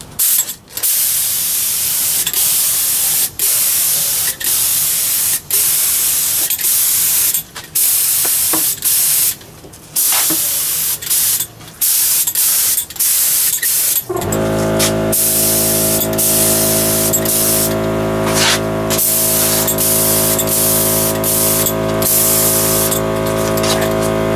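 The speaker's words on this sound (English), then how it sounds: "I've tested my spray gun pattern on a little bit, so I'm going to go ahead and spray this" A paint spray gun, run from a small compressor and spraying a shelf part, hisses in long, continuous bursts, loud and close. It switches to a steadier, more tonal spraying hiss partway through.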